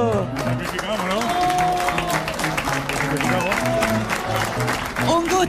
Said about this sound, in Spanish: ¡Un aplauso para el niñito!